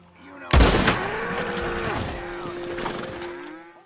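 A single sharp close rifle shot in Red Dead Redemption 2 kills an ox with a headshot, followed by a long drawn-out bovine bellow fading over several seconds, with no talking.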